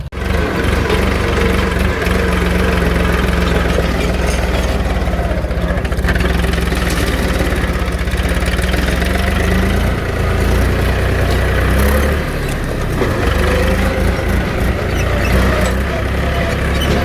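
A tractor engine runs steadily and loudly on a rural Marathi farm route heading home, a continuous low rumbling drone throughout with a brief shift in tone partway.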